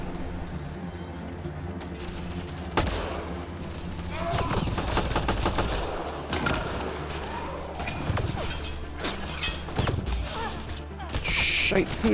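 Sustained volleys of gunfire in the video game Mass Effect Andromeda crackle through a busy battle, with sharp shots and crashes overlapping at a steady, moderately loud level.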